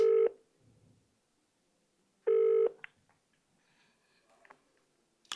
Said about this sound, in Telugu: ఒక్కసారి అనసూయ గారికి కాల్ చేసే ప్రయత్నం చేద్దాం.